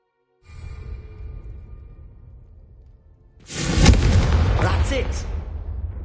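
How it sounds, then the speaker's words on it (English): A Confringo spell blast in the video game Hogwarts Legacy: a low rumbling buildup, then a sudden loud fiery burst that roars and crackles, with a voice cutting in briefly. "you'll find that a Confringo cast travels a bit farther than that of a spell like Incendio"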